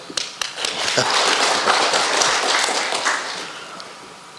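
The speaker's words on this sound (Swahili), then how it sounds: "Makofi" Applause in a meeting hall at a Kenyan regional governors' economic bloc summit: a crowd claps steadily for a few seconds, fairly loud and close, then tapers off.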